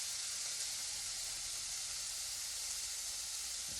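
Shrimp and green onions for Korean seafood pancake fry in a hot pan, giving a steady close sizzling hiss throughout with no talking.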